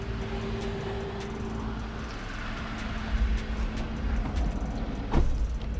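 A Jeep Wrangler drives in four-wheel drive on snowy, slick roads, its engine a steady interior rumble that swells slightly toward the end.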